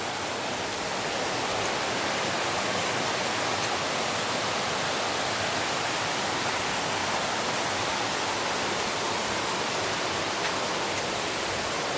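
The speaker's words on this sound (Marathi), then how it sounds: "आता आपण धबधब्यावर पोचतो आहोत" A tall waterfall near Ghonsari Sapatwadi pours down steadily, a dense, even rushing roar that stays loud and unchanging throughout, with no voices.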